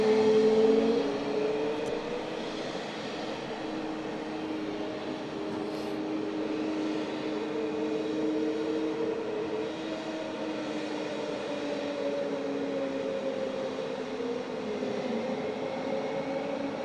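A small ATR turboprop aircraft at Southend Airport drones steadily from a distance, a sustained engine hum with a faint tonal whine holding for about seventeen seconds, with no voices.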